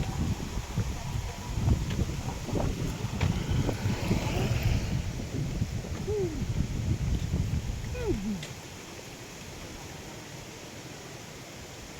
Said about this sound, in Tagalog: Malakas lang hangin dito kasi mataas pala yung lugar na to.